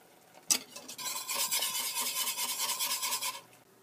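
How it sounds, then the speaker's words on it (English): Coconut sauce thickens in a pan over low heat, heard as a close, continuous rasping scrape of stirring that begins with a sharp knock and runs for about three seconds before stopping. "I'm just going to continue to keep cooking this on a low heat until it's done thickening up."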